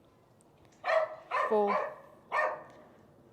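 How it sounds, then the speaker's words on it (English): A dog barking indoors during a home resistance band workout, four sharp barks in quick bursts with a pause before the last, alongside a person counting aloud. "Excuse the dog barking."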